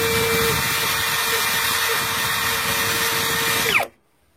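A brushless 21 V drill driver runs at its second speed setting with a steady, loud whine that holds for nearly four seconds. It then spins down and cuts off into silence.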